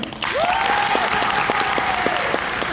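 A high school concert audience applauds the jazz band soloists at a spring concert, a full, sustained burst of clapping that starts abruptly, with a brief vocal whoop rising over it.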